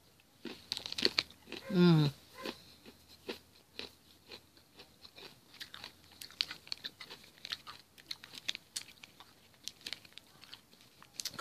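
Crisp crumbly toffee is bitten and chewed close up, with sharp crunchy snaps settling into a long run of soft, irregular chewing clicks; a brief murmur of a voice appears early on.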